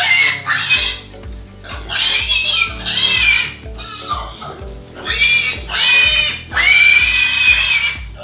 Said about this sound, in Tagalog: yun yung pinakamalaking baboy natin guys